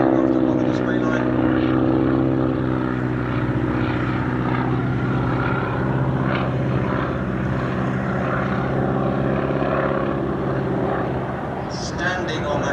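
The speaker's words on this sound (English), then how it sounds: "Bit of rudder to line the aircraft up on the display line." A propeller aircraft flies a display at Sywell Airshow, its engine a loud, continuous droning hum that stays steady for the whole stretch and only eases slightly toward the end.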